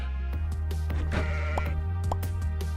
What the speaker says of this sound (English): They got plenty of sheep.